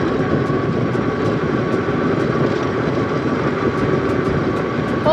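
An Aniioki AQ177 Pro Max eBike, a long-range e-moped, ridden at full throttle gives a steady, loud roar of wind and motor hum with a faint whine throughout, no voice.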